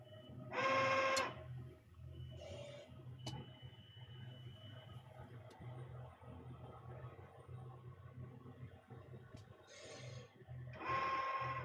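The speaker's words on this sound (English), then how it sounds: "we're probably printing at about between the 3 printers, probably 120 shirts an hour at the moment" Three direct-to-garment T-shirt printers run at a print-on-demand shop, a low steady mechanical hum broken by loud carriage whirs at the start and end and by a few softer mechanical bursts and clicks in between.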